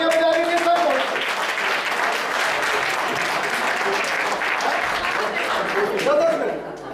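Applause from a poetry recital (kavi sammelan) audience greeting poet Mohit Shaurya, a loud, dense, sustained clapping crowd filling the hall throughout, with voices audible within it.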